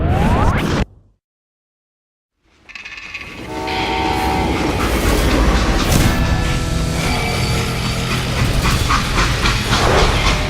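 A freight train runs in the 2013 Western shooter Call of Juarez: Gunslinger, a steady loud rumble with clattering wheels and wagon noise building after a brief silence, continuing alone without talk.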